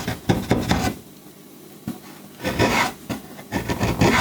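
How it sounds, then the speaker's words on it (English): A round nose chisel scoops small hollows in new wood, giving repeated rough scraping and rasping strokes in short bursts with brief pauses between them, close and fairly quiet. "I used a round nose chisel to scoop out small hollows"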